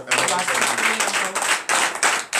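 Clapping and cheering rise from a congregation at a morning prayer service, the claps coming in uneven bursts with voices mixed in, loud and close.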